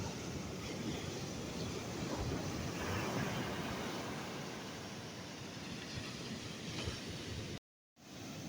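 Surf breaking on the beach at Praia de Areias Gordas in Spain, a broad continuous wash of waves mixed with wind rumble against the microphone, cutting out briefly near the end.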